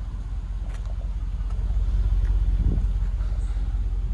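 A Land Rover engine idling with a steady, quiet low rumble, heard up close and alone with no talking.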